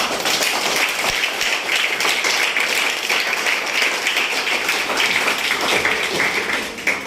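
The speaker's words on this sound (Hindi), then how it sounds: "आप सबको ये जोरदार तालियां होनी।" Steady applause from an audience at a network marketing seminar in India, a dense, continuous patter of many hands clapping that holds at an even level for the whole stretch and fades slightly at the very end.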